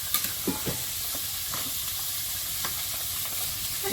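Tomatoes stirred and frying in a pan while cooking a Bengali curry, with a continuous close sizzle and hiss and a few soft scraping stirs of the spoon.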